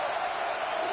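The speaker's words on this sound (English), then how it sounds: "This crowd knows this defense needs them right now." Steady stadium crowd roar from a college football video game, a dense, unbroken wash of massed voices lasting about a second at even loudness.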